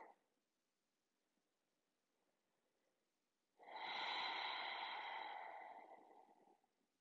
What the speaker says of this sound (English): take a couple more breaths here